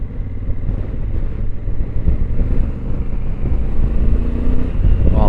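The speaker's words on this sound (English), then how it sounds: "It's got some nice grunt. Low end torque. Sounds great. Stock exhaust." A 2025 Honda Africa Twin motorcycle with its stock exhaust, ridden on the road: a steady, deep engine rumble that swells slightly, heard continuously under buffeting wind noise, with no talking.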